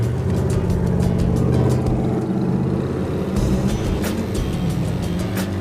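A nitrous-fed muscle truck on drag slicks revs its engine hard, a loud, close, continuous roar that holds steady and then climbs again, with no talk over it.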